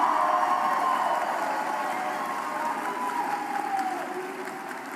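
An indoor political rally audience applauds for the president, with steady clapping and crowd noise that slowly fades.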